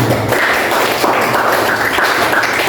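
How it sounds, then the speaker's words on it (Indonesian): A classroom of students bursts into steady, dense applause during a science lesson. The clapping is close and continuous, filling the whole moment with no voices standing out. "Jadi tepuk tangan."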